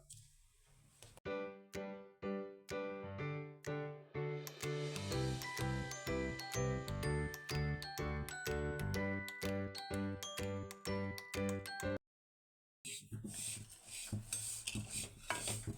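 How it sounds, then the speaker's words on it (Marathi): Mukhvas seeds are dry-roasted in a kadhai, stirred continuously with a spoon that clinks and rasps against the metal in quick, steady strokes, close and bright, with a short silent break near the end. "आता पुन्हा एकदा आपण याला एक चार ते पाच मिनिट कढईमध्ये टाकून भाजून घेणार आहोत"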